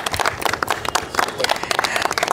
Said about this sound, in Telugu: ఒకసారి బిగ్ క్లాప్